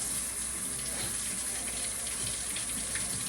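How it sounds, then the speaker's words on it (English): Fresh jalapeños are rinsed under cold running tap water, a steady close splashing gush with no pauses. "You just take them and rinse them off with water, like cold water."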